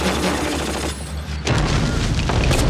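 Loud, dense gunfire and booming explosions from the Band of Brothers episode Bastogne roll on continuously, with a brief dip before the barrage surges back even heavier.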